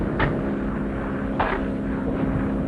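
A propeller ambulance plane drones steadily through cloudy weather, a continuous loud engine hum with two brief bursts of static-like noise, no voices.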